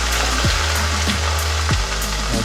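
Carrots dropping into hot oil for Thai curry chicken, a loud continuous sizzle with a few stirring scrapes and knocks recurring, close and steady throughout.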